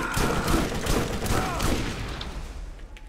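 Explosive automatic rifle in Borderlands firing a rapid burst of blasting shots, loud and dense at first, then thinning and fading as the volley ends.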